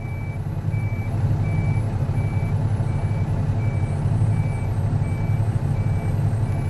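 Crane being driven down off a trailer ramp, a truck engine rumbling steadily beneath a regular, evenly spaced electronic reversing beep repeating for several seconds.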